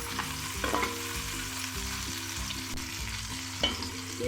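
Chopped onion frying in oil in a cooking pot for chickpea pulao: a steady, close sizzle with a few louder crackles and brief stirring scrapes, and a low background hum beneath.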